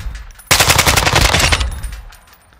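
Kastov 545 rifle in Warzone 2 firing a single loud, rapid automatic burst of about a second, the shots running together before fading into a quiet tail.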